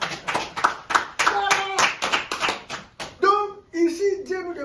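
A church congregation claps in a quick, uneven burst that sounds close, and a voice talks and calls out over the applause partway through.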